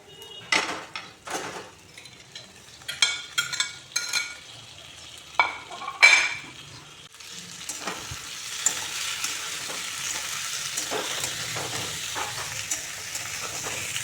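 Potatoes and eggplant are stir-fried with spices in a pan for a hilsa fish curry, with sharp scraping and clattering utensil strokes at first, then a steady, close sizzle hissing on alone.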